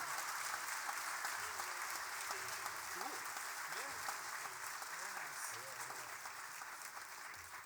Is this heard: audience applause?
yes